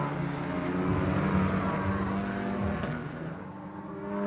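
TC America race cars brake hard into the bumpy turn 7 zone at Indianapolis. A loud, continuous engine roar shifts in pitch as they slow, close and without talk.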